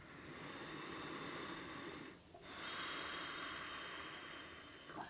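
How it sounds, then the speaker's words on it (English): A long, deep breath is taken during a yoga exercise, a soft airy inhale followed by a brief pause and a second long breath, close and quiet with no talking. "1 more big breath."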